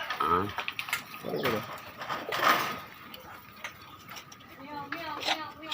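Pigeons in a backyard pigeon farm coo softly in the background while people talk nearby, their voices mostly covering the low, intermittent calls.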